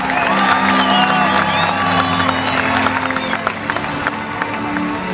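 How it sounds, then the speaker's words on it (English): Crowd at an NHRA drag race applauding and cheering, with whoops and scattered shouts over a broad roar, loud and close, with a steady low hum underneath and the noise easing toward the end. "ladies and gentlemen, one more time, a round of applause for Alexis DeJoria."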